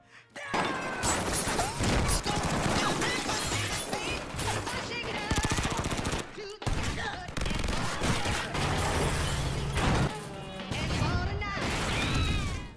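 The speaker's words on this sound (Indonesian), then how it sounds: "kedatangan sekelompok orang bersenjata yang langsung menembaki mereka" Gunfire erupts from an armed group in a film action scene, with bursts of shots and crashing impacts layered over music and dense soundtrack noise throughout, loud and continuous with brief pauses.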